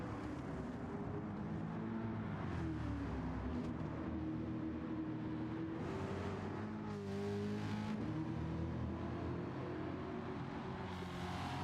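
A 1965 Shelby GT350 muscle car engine roars in Gran Turismo 7 at Laguna Seca, holding a loud, steady growl that rises and falls with shifts and a sharp rev near the middle, continuous throughout without voices.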